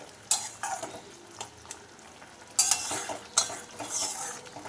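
A pan of amla gooseberry pickle being stirred, with several close scraping and stirring strokes in uneven bursts over a faint sizzle, with no talking.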